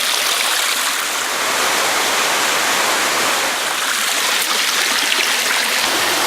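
Loud, continuous rushing of jungle stream water pouring over a waterfall, a dense, steady roar close by with no break and no voices.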